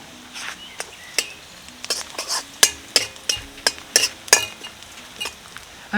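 Chopped garlic, green chilli and a large onion frying in a pan for paneer butter masala, with a soft sizzle under repeated sharp clinks and scrapes of a spoon stirring against the metal.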